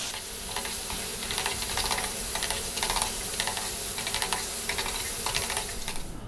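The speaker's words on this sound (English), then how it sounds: "Stir frying this around." Spaghetti arrabbiata stir-fried in a hot pan, giving a steady, close sizzle with rhythmic scraping and stirring clatter throughout, no voices.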